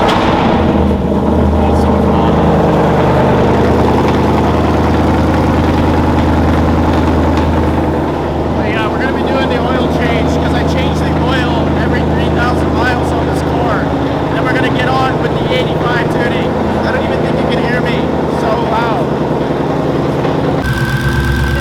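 A Whipple-supercharged Mustang GT running E85 idles loudly with its exhaust valves open, a steady deep rumble and low drone filling the whole stretch, with a slight shift partway through.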